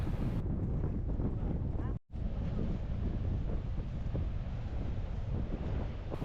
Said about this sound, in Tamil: இன்றைக்கி ரொம்பவே காற்றடிக்குது